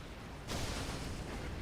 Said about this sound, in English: Oh boy, that explosion